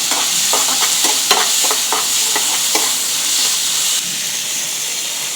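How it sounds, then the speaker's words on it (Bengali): Onions frying in oil with ginger-garlic paste, a steady close sizzle and hiss with brief stirring scrapes and clinks at intervals, no voices. "আমি অবশিষ্ট তেলগুলোর মধ্যে পেঁয়াজ দিয়ে দিব হাফ কাপ। পেঁয়াজগুলো একটু ভেজে নিব।"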